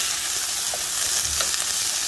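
Eggs frying in a pan for an omelet, a continuous bright crackling sizzle with small pops, close and fairly loud, with no talking.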